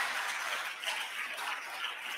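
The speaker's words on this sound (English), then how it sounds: "Let's give them also a round of applause as well" Crowd applause at a religious gathering, a continuous even patter of many hands clapping at moderate volume, with no voices over it.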